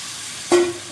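Goat head meat hitting a hot pan in a village-style kitchen, a sudden sizzling hiss bursting up at once and then settling into a steady, fading sizzle, close and alone.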